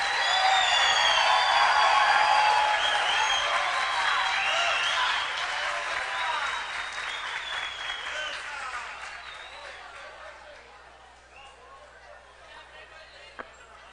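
An audience at a plenary session applauds loudly and densely at first, with cheers and voices mixed in, then the clapping gradually thins and fades toward near quiet.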